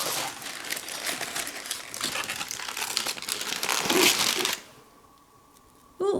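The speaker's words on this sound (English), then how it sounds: "We're going to go ahead and remove the foil" Aluminium foil crinkles and rustles as it is pulled off a freshly baked cake in a pan, close and busy for several seconds, then stops into near silence before a brief final crackle.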